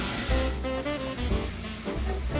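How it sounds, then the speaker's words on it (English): Shallots sizzle steadily in hot oil in a pan, a dense, continuous crackling fry that stays loud and close throughout. "Put the shallots in the pan"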